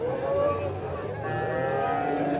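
Cattle low at a busy Andijan livestock bazaar, several drawn-out moos rising over a murmur of crowd noise and distant voices.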